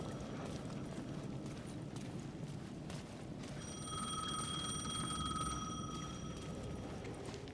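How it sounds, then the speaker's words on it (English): A payphone ringing in the video game Alan Wake 2, a thin electronic ring that sounds steadily for a few seconds over a dark, rumbling ambient backdrop, faint and somewhat distant. "The payphone was ringing again."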